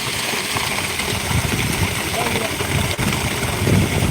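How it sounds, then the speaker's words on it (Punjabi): A motor runs steadily in a rural village setting, a loud, even mechanical drone with a low rumble that holds throughout without pause, with voices mixed in. "ਲਓ ਜੀ ਚੱਲ ਗਈ ਮੋਟਰ"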